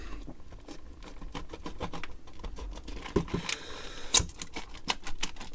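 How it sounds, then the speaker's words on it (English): Scissors snip through carpet tape sealing a package, a quick run of close, crisp clicks and cuts with a few sharper snaps near the end. "We're cutting it open."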